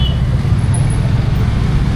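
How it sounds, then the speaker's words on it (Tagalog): Busy road traffic in Nepal rumbles nearby as a loud, steady low drone of passing cars and heavier vehicles. "alam niyo sa mga gantong panahon, oras or season, sobrang traffic."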